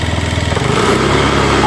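A Honda Activa 6G scooter engine, freshly repaired with a new belt and clutch, catches on the self-starter and runs at a fast, even idle, a close, loud rhythmic putter that smooths out after the start.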